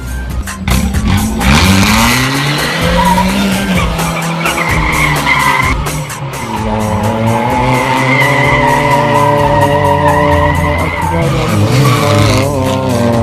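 A car drifting with loud, sustained tire squeals and skidding, engine revving beneath, close and continuous with pitch sweeping up and down, loud music audible alongside.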